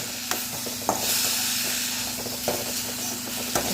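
Okra sizzles steadily in a hot pan while a utensil scrapes and stirs it, leaving a few sharp clicks, with a faint hum underneath.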